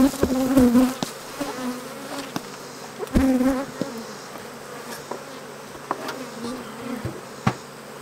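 Honey bees swarm in a steady, close buzz over an opened beehive fitted with a queen excluder and a honey super. A few sharp knocks break through the drone.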